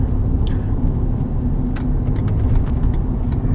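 A 2016 Ford F150 Platinum 4x4 pickup towing a trailer on the road, giving a steady loud low rumble of engine and road noise throughout with faint clicks.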